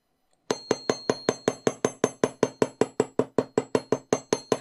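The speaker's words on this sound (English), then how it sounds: "I'm using a raising hammer here, but you could use whatever hammer you've got." Raising hammer striking wire on a wire-wrapped pendant: a rapid, even run of bright, ringing metallic clinks, close up and alone, about four hits per second.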